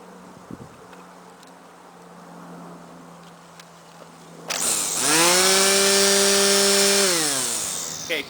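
After a few quiet seconds of background hiss, an electric lawn edger/trimmer whirs up to a loud, steady high-pitched whine, holds close, then begins winding down near the end.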